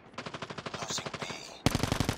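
Rapid automatic gunfire in Call of Duty Mobile, a close, loud burst of evenly spaced shots that briefly shifts to a harsher, heavier weapon near the end.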